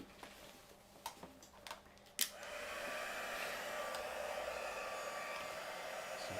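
A heat embossing tool blows hot air, starting with a few faint ticks and clicks before switching on into a steady, moderately quiet whooshing roar that runs to the end.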